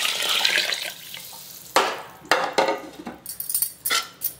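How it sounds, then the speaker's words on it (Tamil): Water poured into a pot of chicken white biryani in a home kitchen, a steady splashing pour followed by several sharp clinks and scrapes of a utensil against the pot, close by. "தண்ணி சேர்த்துறேன்."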